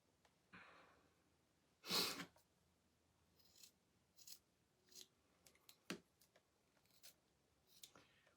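Scissors snip paper angel sleeves in a series of short, crisp cuts spaced irregularly, one louder close snip followed by quieter trims in a hushed room.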